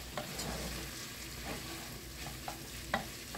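Flour cooking in a pan gives a quiet, steady sizzle, with soft scraping and occasional taps as it is stirred.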